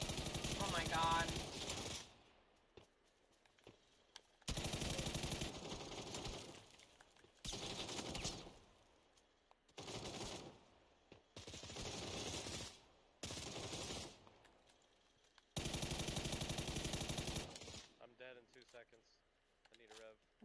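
Bursts of automatic gunfire in a video game come in loud clusters separated by short gaps, with mechanical reload clicks near the end.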